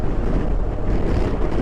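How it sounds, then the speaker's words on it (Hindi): Strong, nonstop coastal wind roars across the microphone of a motorcycle riding along the Croatian shoreline, a dense continuous rumble with no let-up and no voices. "यहाँ पे बहुत ज्यादा हवा चल रही है नॉन स्टॉप"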